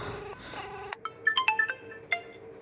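A phone ringtone plays a series of bright, electronic melodic tones in quick succession after some muffled background voices, standing clear and close in a quiet indoor scene.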